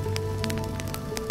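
Steady rain patters on a surface, with dense drips and hiss running without break and no voices.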